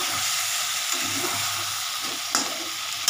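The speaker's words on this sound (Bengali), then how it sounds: "এটা কষানো হয়ে যাচ্ছে, দেখো কষানো হয়ে গেল।" A winter mixed vegetable curry of potato, cauliflower and peas sautés in a pan, a dense continuous sizzle with a few soft stirring scrapes and one brief clink near the end.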